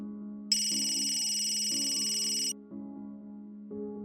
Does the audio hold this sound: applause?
no